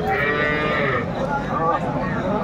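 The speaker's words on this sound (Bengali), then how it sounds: "গাভী বাছুর আমরা দেখছিলাম" A cow moos loudly up close at a cattle market where cows and calves are sold. The long low call carries over a busy background, with people faintly audible.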